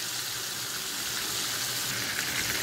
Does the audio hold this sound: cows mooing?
no